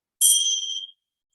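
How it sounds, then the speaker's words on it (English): A meditation bell opening a restorative yoga session gives one bright, clear strike that rings out and fades within a second, alone in silence. "the beautiful bell"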